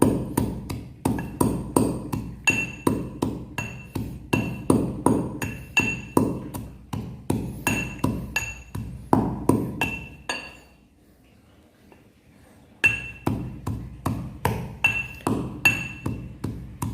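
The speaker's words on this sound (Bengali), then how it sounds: "এই যে এই পরিমাণে তাম্বুল আমরা এর ভিতরে দিয়ে দিলাম দিয়ে এখন এটা সুন্দর করে বেটে ফেলতে হবে" Neem and tambul leaves are pounded into a paste for fish bait, a steady run of loud, rhythmic knocks with ringing clinks, briefly stopping near the middle before the pounding resumes at the same pace.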